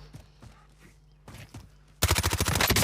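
Rapid burst of MP5 submachine gun hip fire in Call of Duty Warzone, a loud, tightly spaced string of shots erupting after a stretch of quieter footsteps and ambient game sound.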